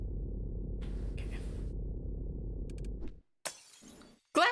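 Glass shatters in a video game, a sharp crashing burst followed by a second, shorter smash, both loud and close, breaking in right after a steady low droning rumble cuts out.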